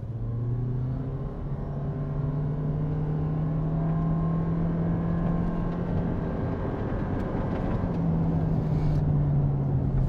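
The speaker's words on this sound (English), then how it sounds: "So we will accelerate, let it rev, and go." A 2024 Toyota Prius Limited AWD hybrid accelerating hard in sport mode, its engine rising as a smooth, steady hum that climbs gradually in pitch, close and moderately loud, with no talking.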